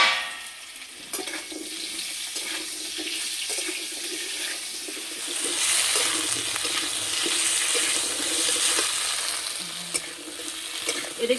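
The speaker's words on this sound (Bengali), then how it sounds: "এদিকে আলু ভাজা হতে থাক," Cut potatoes with a little salt sizzle in mustard oil in a wok, a soft continuous crackle broken by scraping and stirring clatter, with a watery rush swelling midway.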